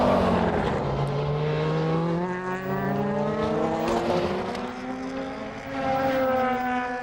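DTM touring race cars, including an Audi A4, racing at Valencia in 2010, loud engines howling as they rise and fall in pitch through gear changes, with several cars overlapping close to the microphone.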